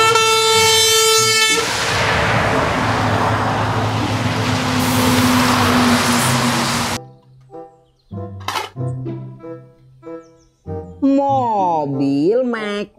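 A toy container truck horn blasts loudly for about a second and a half, then gives way to a long noisy rumble, followed by short, choppy voice-like sounds.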